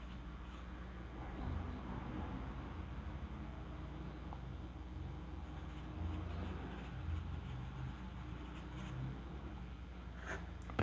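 A pencil sketching a rough drawing on paper laid on a table, producing a steady, soft scratchy scraping that goes on continuously and fairly close, with no talking.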